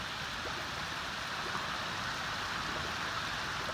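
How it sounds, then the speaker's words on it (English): Heavy rain pours steadily during the Hurricane Harvey flood in a Houston neighbourhood, a dense, even hiss of water with no pauses, fairly faint and distant. "It is still raining"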